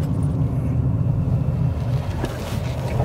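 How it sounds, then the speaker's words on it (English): A 2022 Ford Maverick Lariat compact pickup truck slows under braking from the cabin, with a steady low road and engine rumble that eases slightly, with no talk over it. "I'm gonna hit the brakes and see how it reacts with the braking"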